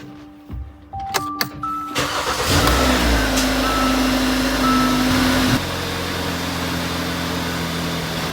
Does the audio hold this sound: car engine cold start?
yes